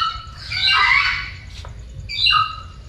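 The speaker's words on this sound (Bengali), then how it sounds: "এটার ভিতরে আছে রেড টেইল ব্ল্যাক কাকাতুয়া," A red-tailed black cockatoo calls in a zoo aviary at Bangladesh's national zoo in Mirpur, giving two loud, harsh squawks separated by a short pause.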